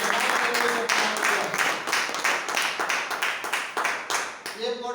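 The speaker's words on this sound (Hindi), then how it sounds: "में जोरदार ताली चाहूंगा।" Seminar audience in Mandla clapping loudly for a product launch, dense steady applause filling the whole stretch with a brief dip near the end, no clear voice on top.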